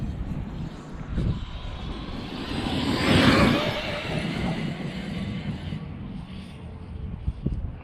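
Arrma Kraton RC car with a Castle 2028 800kv sensored motor on 12S power, whirring past with a steady motor whine that swells to a peak near the middle and fades, with wind rumble and no talking.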